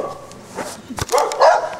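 Dog giving a few sharp, close barks and yips in a living room during a Christmas gift exchange, loud and brief.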